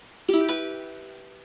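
A single strummed ukulele chord rings out bright and clear, its notes sustaining and slowly fading with no other sound.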